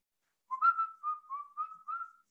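A person whistles a tune in a short clear melody of several sustained notes, quiet and close, with no other sound around it.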